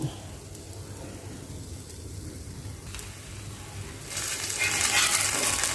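Oats dosa batter sizzling and frying on a hot pan, a steady close crackle that swells louder toward the end, with no talking.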